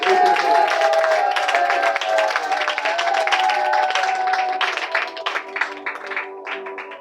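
Applause and cheering from a gathered audience, a dense wash of claps with raised voices that stays loud for several seconds, then thins into scattered clapping toward the end.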